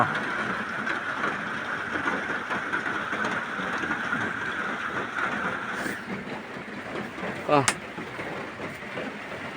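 Steady rain hisses down throughout, and a few brief sharp noises cut through near the end.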